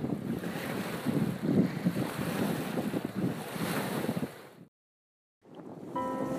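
A cold, unrelenting headwind at Baldwin Lake buffets the microphone with a loud, rumbling roar and gusting surges. It cuts out for about a second, then returns just as strong.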